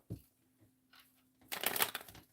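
Playing cards being shuffled during a tarot-style reading, a soft brief riffle followed by a louder crisp burst of flutter near the end, close and alone.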